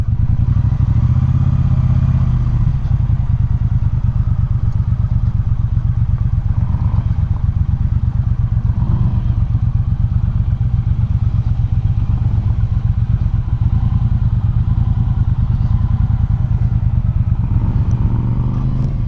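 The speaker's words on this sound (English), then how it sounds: "And again, this sound from the exhaust" A 2018 Triumph Bonneville Speedmaster exhaust rumbles steadily and loudly while riding, a deep continuous throb that holds for nearly twenty seconds with a slight rise near the end and no talk.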